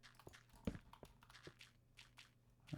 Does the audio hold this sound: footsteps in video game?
yes